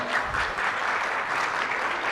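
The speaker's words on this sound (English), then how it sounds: "please give him a round of applause" Audience applause at a Mangrove Jeopardy Challenge event, welcoming a contestant representing Berbice; a dense, steady wash of many hands clapping throughout, loud and continuous.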